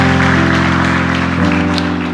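Congregation at a Korean Presbyterian children's church service claps in blessing over sustained organ or keyboard chords, the clapping soft beneath the loud music.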